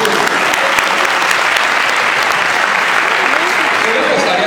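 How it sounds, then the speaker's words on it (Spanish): An audience claps in sustained, loud, dense applause filling the room, with voices faintly mixed beneath it. "Un aplauso para Cristian"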